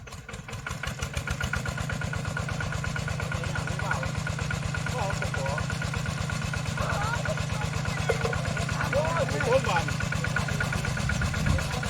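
A water pump engine runs with a steady, close, chugging idle throughout, used for pumping water out of a pond to catch fish, while people talk over it intermittently.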